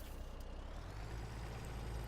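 Heavy haul truck in Farming Simulator 17, a steady low engine drone running continuously at moderate level with no talk.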